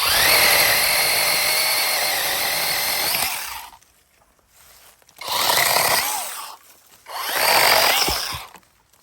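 A cordless hand saw whines loudly while cutting apple tree branches, pauses briefly, then cuts again in two more bursts, close by.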